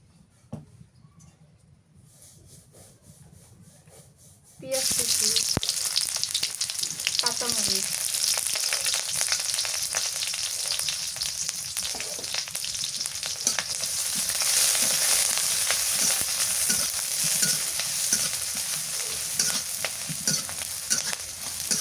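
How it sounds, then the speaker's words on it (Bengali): Eggplant frying in mustard oil, a steady close sizzle and crackle that starts abruptly after a few seconds of quiet and continues loud with occasional stirring scrapes. "আগে বেগুনটা ভাজি ফিরে নি সরিষার তেল দিয়ে দিই"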